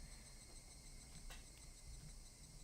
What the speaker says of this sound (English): Oh, it's just cicadas.